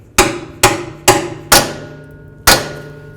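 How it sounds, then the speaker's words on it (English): A hammer drives a seal driver to press an axle seal into the differential of a 1994-2004 Chevy S-10 pickup, giving five sharp, close metallic strikes at uneven intervals with short ringing decays and no talk. "Now I'm going to use this nice and flat with my driver, and I'm going to go ahead and press it in until it hits up against the differential."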